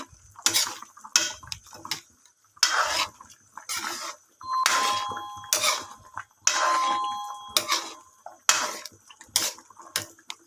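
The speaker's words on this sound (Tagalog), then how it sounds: "So ayan, halo-haloin lang natin." A spoon stirs fish sinigang soup made with tulingan in a metal pot, giving a series of irregular scraping and clinking bursts separated by short pauses.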